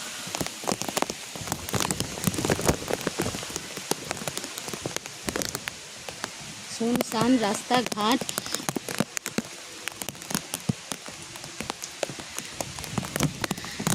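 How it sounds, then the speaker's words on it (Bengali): Steady storm rain patters and splashes on hard surfaces, with scattered drips and brief speech heard over the downpour. "ঝড় বৃষ্টিতে কী অবস্থা চারিদিকে ডুবুডুবু অবস্থা"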